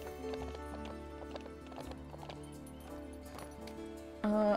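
Horse hooves clip-clop in The Ranch of Rivershine video game as wild horses are trained, a run of steady hoofbeats ending in a loud whinny.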